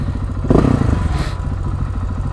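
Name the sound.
Honda CB 1000R motorcycle passing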